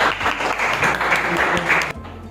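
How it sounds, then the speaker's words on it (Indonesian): Applause from a classroom of students, a dense, steady patter of clapping lasting about two seconds before cutting off abruptly. "Kita tepuk tangan untuk Karin"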